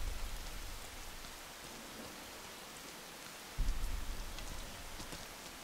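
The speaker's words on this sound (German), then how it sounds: "Nur der Regen fiel weiter in Strömen. Er prasselte auf ihn nieder." Heavy pouring rain in a video game, a steady dense hiss of downpour with a low rumble that swells partway through, continuous and without speech.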